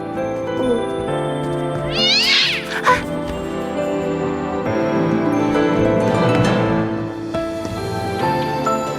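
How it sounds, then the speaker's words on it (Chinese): A kitten meows several times in high, plaintive cries over a sustained musical background, with no talking. "公子不必担心，是只小猫。"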